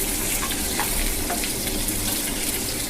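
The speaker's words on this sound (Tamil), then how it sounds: "வெங்காயம் போட்டு கொஞ்சம் நல்லா வதக்குவோம்." Onions sautéing in a pan for a Tamil paneer and green peas salna, a dense continuous sizzle close up with faint stirring scrapes, no talking.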